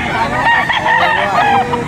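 A rooster at the Lipa auction market, bred by an American breeder, lets out a single loud, close crow that lasts just under two seconds.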